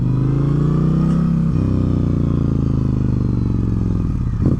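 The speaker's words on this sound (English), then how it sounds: "Like when you're engine braking on this bike," A 2023 Indian Challenger motorcycle engine drones loudly and steadily with a low, burbling pitch that shifts as it decelerates under engine braking, no voices.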